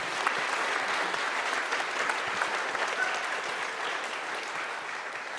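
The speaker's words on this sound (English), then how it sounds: "Let's give you all a round of applause." Sustained audience applause from a crowd at a New Mexico governor candidate forum, steady dense clapping that stays loud and even throughout without a break.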